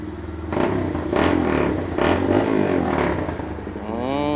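A Kawasaki GPR250 motorcycle with a cone muffler on its exhaust is revved in several sharp bursts, loud and close, then settles to an uneven idle.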